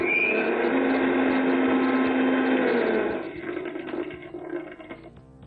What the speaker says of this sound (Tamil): இதை நல்லா பேஸ்ட் மாதிரி அரைச்சிடலாம்.